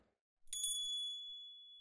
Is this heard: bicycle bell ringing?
yes